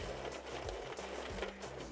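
Crisp cubes rattle and skitter over a baking tray in a continuous, busy clatter, up close and fairly even in loudness.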